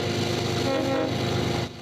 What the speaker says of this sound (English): This evening, the first CN rail train rolled through Tyendinaga.